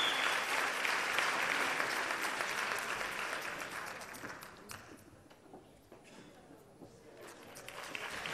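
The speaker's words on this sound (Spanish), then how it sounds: "Volvemos a aplaudir a Rosy, que está emocionada." Steady applause from a crowd at a choir and Christmas carol contest, loud at first and gradually thinning out, with a swell of clapping returning near the end.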